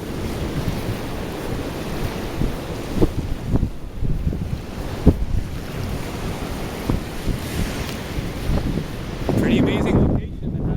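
Ocean waves wash onto a private Hawaiian beach beside a house and hammock, a steady surf rumble with gusts of wind buffeting the microphone and a louder breaking swell near the end.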